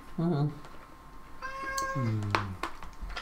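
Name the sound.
cat meowing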